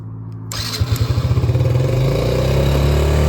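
A Yamaha Raptor ATV engine cranks and catches, sputtering in rapid pulses before settling into a steady, loud idle close by, with no one speaking.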